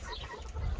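Young chickens newly moved into a coop cluck in a short, close, noisy burst of low chatter.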